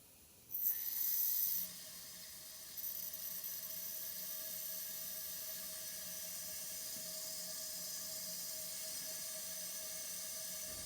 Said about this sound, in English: Turn on the compressed air.